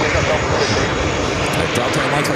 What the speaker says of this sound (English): Delta Airlines Flight 680 heading to SFO, a 757 at 200, originally delivered to TWA